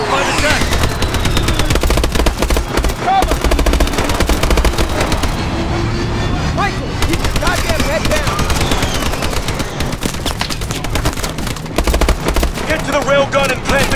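Relentless automatic gunfire from a shipboard battle in Call of Duty Advanced Warfare, loud dense bursts of rifle and machine-gun shots crackling nonstop with heavy booms, while voices shout commands underneath.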